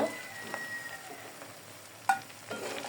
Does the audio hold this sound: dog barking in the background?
no